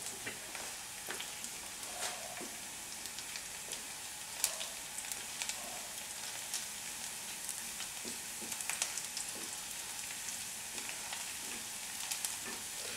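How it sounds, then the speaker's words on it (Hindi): Ingredients frying in a pan over raised gas heat while cooking mustard greens, a steady close crackling sizzle with small pops and occasional stirring scrapes throughout. "हम हल्का पिंक होने तक फ्राई करेंगे"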